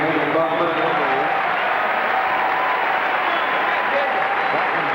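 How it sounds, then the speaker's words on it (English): A basketball crowd at a 1990 Illinois–Iowa college game applauds a player, with a broad, steady wash of clapping and cheering across the whole stretch. "Gets a nice hand from the crowd."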